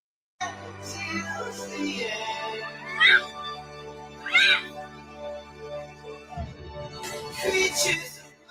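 A cat meows in a cat video, several short, high cries scattered over a steady low background, with people talking underneath.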